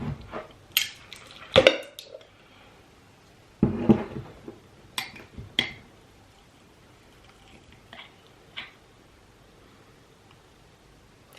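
A tablespoon clinks and scrapes inside a small bowl as peppermint oil mixture is stirred, giving a few scattered close metallic taps and knocks separated by quiet pauses.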